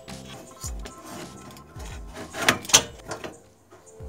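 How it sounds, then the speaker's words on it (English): Scraping and rubbing of a graphics card being handled, then two sharp, distinct clicks close by as it snaps firmly into the motherboard slot. "You will know it's inserted once you hear a click."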